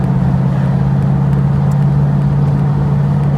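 A TVR Chimaera sports car on the road, its engine a loud, deep, steady drone heard from inside the cabin, constant throughout with no talk.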